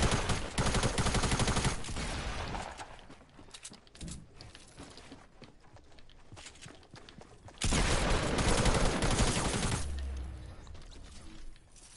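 Shotgun fire in a video game: dense, loud blasts and bursts of gunfire in the opening seconds, quieter scattered shots in the middle, then another sustained heavy barrage before it fades.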